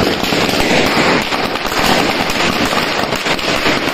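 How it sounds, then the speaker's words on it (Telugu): Firecrackers burst during Diwali celebrations at a residential complex in Hyderabad: loud, dense, continuous crackling and popping that fills the whole stretch without a pause. "పెట్టండి పెట్టండి పెద్ద బాంబు"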